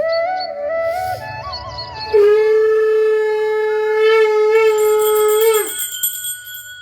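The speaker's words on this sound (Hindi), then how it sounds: "भैया एक बार शंख छोटा बजा दीजिए।" A conch shell blown at a Hindu Satyanarayan Katha, one long steady tone held for several seconds that rises sharply before ending, loud and close, with no talking over it.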